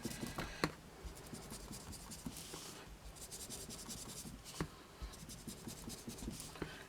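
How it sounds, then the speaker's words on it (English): Grey ink is applied around the edges of a scrap card with an ink pad or blending tool, producing soft, repeated close-up scratchy rubbing strokes in an irregular rhythm with small taps between them. "going around the outside in the grey, I'm going to ink the edges"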